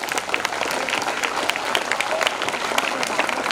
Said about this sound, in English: your juniors will give 2 minutes claps to your success